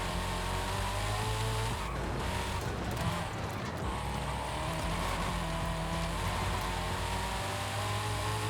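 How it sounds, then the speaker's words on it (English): A car in the NoPixel GTA game brakes hard, its engine droning steadily while tires squeal and skid through the middle, loud and close with no voices. "Really weird braking effect."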